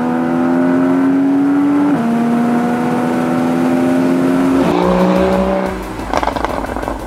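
A Porsche Boxster GTS 981 engine revs hard through the gears, a loud rising mechanical wail stepping up and dropping at each shift, then ending in a rough burbling growl.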